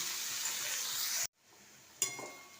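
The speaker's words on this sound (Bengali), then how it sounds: "এটা পেঁয়াজের সাথে ভালোভাবে নেড়ে নেবো আগে।" Potatoes and onions sizzle and crackle as they are stirred in a hot frying pan, a steady close hiss that cuts off briefly before resuming with a clink of the spoon.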